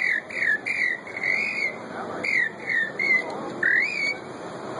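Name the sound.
man whistling imitation of sabiá poca bird call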